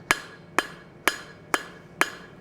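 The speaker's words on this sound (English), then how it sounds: "I'm going to do this on the horn of the anvil, and I'm going to start hammering straight out" Hot steel rose petal hammered on the horn of an anvil during forging, five evenly spaced ringing metallic strikes about half a second apart, close and clear with short decays.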